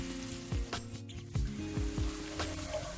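Ginger, garlic and green chilli sizzle gently in a pan of oil, a soft steady frying hiss with a few low knocks and stirring scrapes, close and fairly quiet with no talking.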